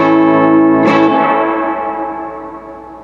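A single strummed electric guitar chord through a Mesa Boogie Mark V 35 amp with a sharp long-tank spring-reverb splash, ringing out and slowly decaying over about three seconds, no voices.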